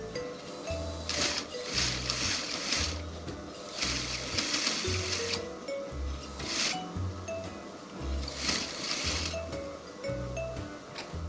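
A sewing machine top-stitches a welt pocket in quick, rhythmic runs of stitching broken by short pauses, heard close and moderately quiet with no talking.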